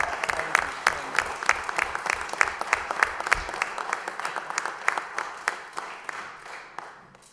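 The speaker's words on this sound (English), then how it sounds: "And I get to give them a round of applause." A round of steady applause from a modest crowd at a city council meeting, individual claps crisp and distinct, tapering off toward the end.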